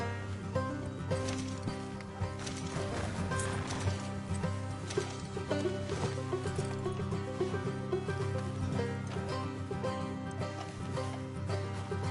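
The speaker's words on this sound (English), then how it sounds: "Get back on the horse and let's go." Horse in the Red Dead Redemption video game galloping with steady clip-clop hoofbeats and occasional neighs, set against a continuous bed of music and game ambience throughout.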